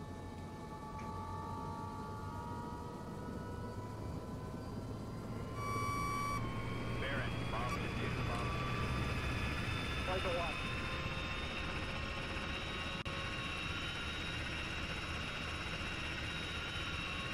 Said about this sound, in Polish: Co tam, ktoś samolotem lata od nas?